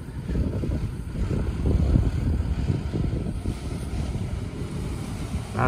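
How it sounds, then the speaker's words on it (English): A surf-launch boat turns sharply on the ocean, giving a rough, continuous rush of wind and water with a low rumble and buffeting on the microphone, steady and close throughout. "Boat turned on a dime"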